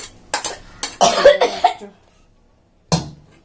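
A person coughing near the microphone in a home kitchen: a cluster of several sharp coughs in the first two seconds, a pause of silence, then one more single cough near the end.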